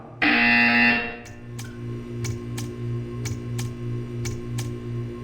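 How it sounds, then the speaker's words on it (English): A buzzer sounds in the video game Portal 2: a loud electronic tone opens, then a faint low hum pulses beneath a run of quiet, evenly spaced ticks. "When you hear the buzzer, stare at the art."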